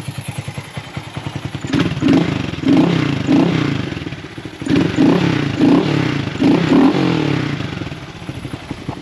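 A motorcycle engine idles very low nearby, then revs in several throaty bursts through a loud, raspy cheap aftermarket exhaust before settling back to idle.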